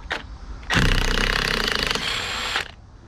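An impact wrench or power tool loosening and spinning off the 13/16 steering wheel nut on a 3rd Gen Camaro, heard as a brief buzz, then a loud steady two-second whir that cuts off abruptly, close by.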